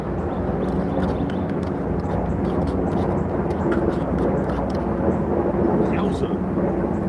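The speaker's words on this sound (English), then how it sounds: "A bunch of big helicopters." Several big four-bladed helicopters, probably UH-60s, pass overhead with a loud, steady, broad rumbling roar that continues throughout.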